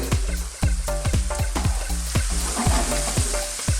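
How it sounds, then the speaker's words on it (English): Fried tofu pieces sizzle loudly in a hot pan with seasoning, a steady bed of frying hiss broken by repeated clattering knocks of a utensil stirring and scraping, close and constant with no talking. "in goes our fried tofu"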